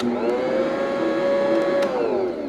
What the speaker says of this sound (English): I just always love using my Bosch mixer